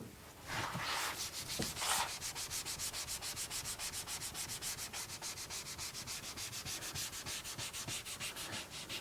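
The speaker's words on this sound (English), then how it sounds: "Just going to use a traditional paper towel." A paper towel wipes plastic trim on a 2017 Porsche GT3 in close, steady, rhythmic rubbing strokes. The strokes repeat evenly throughout, with no talking.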